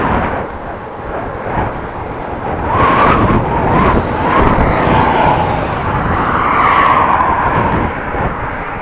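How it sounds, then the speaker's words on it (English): Steady roar of traffic on an 80 km/h road near Ten Post, Groningen, Netherlands, with cars whooshing past one after another, loud and continuous. "cars will be whooshing by, making noise."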